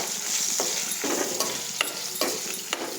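Asafoetida tempering sizzles in hot oil for sesame rice, a steady crackling fry broken by several sharp scrapes and stirs of a spoon in the pan, close and alone without any voices.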